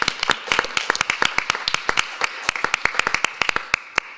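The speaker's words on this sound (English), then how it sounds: "I think she deserves an applause for that." Applause at a city planning commission meeting, a room of people clapping in dense, uneven hand claps that keep going steadily for several seconds.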